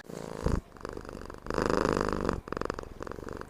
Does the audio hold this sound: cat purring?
yes